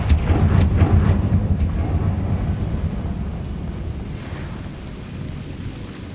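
Confringo fire spell in the game Hogwarts Legacy sets off a deep rumbling blast that hits loudest at the start and rolls away into a long, fading low roar.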